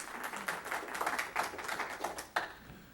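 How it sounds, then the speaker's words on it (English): Scattered applause rises in a county commission meeting room, a quiet patter of several hands clapping at once that swells, dips and ends with one sharper clap, heard at a distance in a reverberant hall. "if you would, please, no applauding or anything else"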